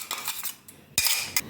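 Fresh coconut chutney is scooped from a mixer jar into a vessel, with close metal spoon clinks and scrapes in short bursts and a louder clatter near the end.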